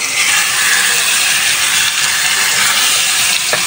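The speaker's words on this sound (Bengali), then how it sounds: "তো এগুলো হালকা একটু ভেজে নিই।" Fresh pond fish and green chilies fry lightly in oil, giving a loud, dense, unbroken hiss that stays even and close throughout, with no talking.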